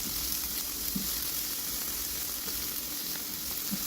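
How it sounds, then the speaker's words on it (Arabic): A grated onion frying in olive or vegetable oil for a quiche, a soft continuous sizzle with faint stirring scrapes, close and alone. "غادي ندير هنايا واحد البصيله اللي عندي مشوطه، نخليها تهبط غير واحد شويه"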